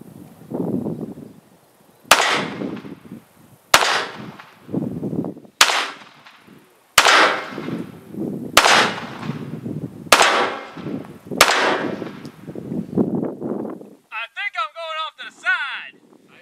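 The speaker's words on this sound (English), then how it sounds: "time to fire a Smith & Wesson 9mm, which it fires the 9mm Luger." Seven sharp, loud shots from a Smith & Wesson 9mm pistol firing 9mm Luger rounds at lamellar armor, spaced a second or two apart outdoors, with people talking between shots.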